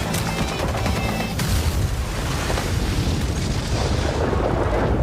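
Grenades going off in a played action video, a loud booming burst followed by rumbling debris and crackle that fades into sustained low noise.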